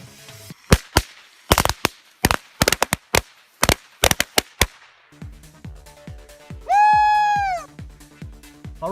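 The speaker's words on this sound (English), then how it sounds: "We're gonna blow up some Batman!" Firecrackers set off around a Batman figure crack in a rapid irregular string of sharp, loud pops, then a cluster of lower thuds and a whistling, rising tone near the end.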